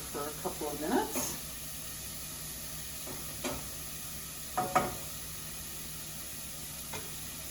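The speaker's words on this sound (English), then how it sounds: "Sizzling away nicely." Tomato spinach pasta cooking in one big pot, a soft steady sizzle with a few brief scrapes and stirring clatters scattered through, quiet and close.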